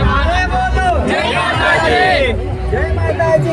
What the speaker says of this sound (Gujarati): આજે રવિવાર છે અને હજારો માઈ ભક્તોની અહીંયા ભીડ તમે જોઈ રહ્યા છો